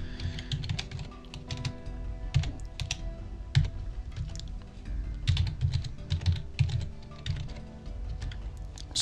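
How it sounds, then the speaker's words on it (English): Computer keyboard typing in a home office, a steady run of close, clattering keystrokes in irregular bursts with no voices. "Sorry about the keyboard sound."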